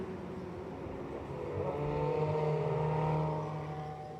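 Ferrari Challenge race cars rev and rise in pitch during qualifying at the Jerez circuit in Spain. The engine whine swells and then eases back, fairly distant and steady, without talk.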